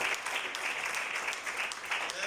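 Wedding guests applaud in a hall, steady continuous clapping of a crowd, moderately distant and somewhat muted, with faint voices underneath.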